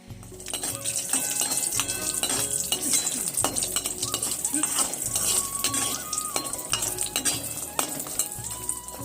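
Chopped vegetables frying in oil with five-spice seeds, a loud crackling sizzle mixed with repeated metal scrapes and clinks of a spatula against the pan, close and continuous.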